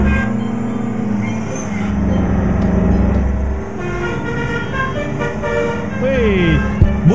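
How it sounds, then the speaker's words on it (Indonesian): A DAF truck horn in Euro Truck Simulator 2 plays a melodic multi-tone telolet tune, sustained and loud, alongside engine rumble and a brief voice. "Kasih telolet dulu guys"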